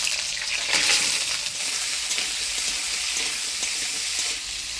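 Cut potato and eggplant fry in hot oil with black cumin seeds, turmeric, salt and green chilies, giving a steady, loud, close sizzle with a faint crackle that runs unbroken, with no talking.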